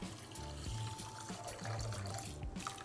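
Water poured into a pot of uncooked rice, a cup of rice in a home kitchen, heard as a steady splashing, trickling fill close by, alone without talk.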